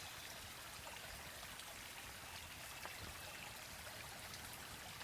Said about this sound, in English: Imagine a peaceful stream winding through a lush forest or meadow with leaves floating on the surface of the water.